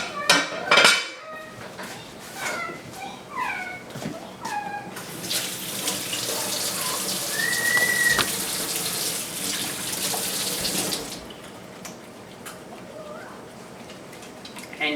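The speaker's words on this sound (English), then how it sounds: "I like to use the inside foam to get all off of dishes" Dishes being washed under a running kitchen tap, using foam and olive and coconut oil soap: clinks of plates and cutlery, then a loud steady rush of water that stops, and more handling afterwards.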